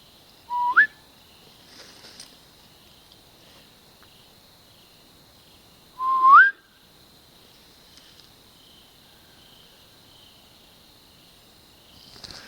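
Outdoors at night, a person gives two short, rising whistles several seconds apart over a faint, steady insect drone, with a third cut off at the end.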